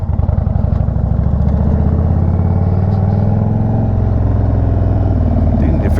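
A 2022 Indian Chief motorcycle idles hot and steady close by, its deep low engine note running throughout with a continuous mechanical rattle mixed into the pulse.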